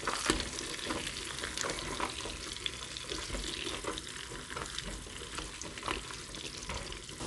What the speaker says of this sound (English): We're going to let this fry until we see that it is brown all the way around the edges.